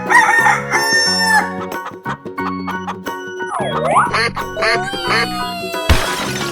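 A cartoonish rooster crows amid bright game music and chiming effects in a 3D animal video game, a short stylized call over busy, loud melodic tones with a sharp burst near the end.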